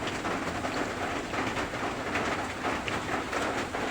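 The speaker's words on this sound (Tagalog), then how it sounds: "Yun nga po, ulan dito sa amin." Rain falling steadily outdoors, a dense, even hiss with a faint irregular patter running unbroken throughout.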